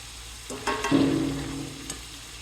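Burgers on a stovetop set to medium give a brief burst of sizzling with a couple of utensil clacks, rising then fading over a low background hiss, with no talking.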